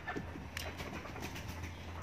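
Domestic birds at a rural home coo softly just before feeding, a faint, short burst of low murmuring calls close by.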